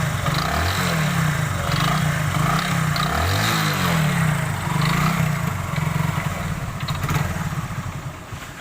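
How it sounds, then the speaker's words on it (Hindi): A Hero Super Splendor motorcycle engine with an abnormal crank noise, a loud close idling thrum with repeated uneven knocking and rising-falling pitch sweeps, steady throughout and tapering slightly near the end. "सिर्फ इस बाइक में एक आवाज़ पैदा हो गई है जो कि इसकी मैं आपको सुनाता हूँ।"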